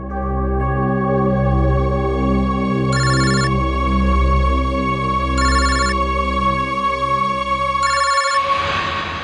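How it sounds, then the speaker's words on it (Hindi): A telephone rings loudly and steadily in a crime drama scene, a sustained electronic tone with three bright repeated trill bursts evenly spaced, cutting off abruptly near the end with no talking over it. "इनका फोन मत उठा तुम"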